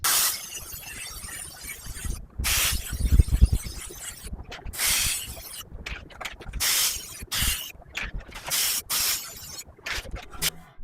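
Homemade spray paint sprayed onto a primitive wooden piece in repeated bursts of hissing spray, several short and some longer, with brief quiet gaps between and light handling clatter.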